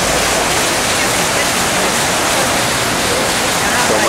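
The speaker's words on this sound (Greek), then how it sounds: "Κυλάει το νεράκι." Water flows and rushes steadily outdoors, a loud, continuous broadband wash with no breaks.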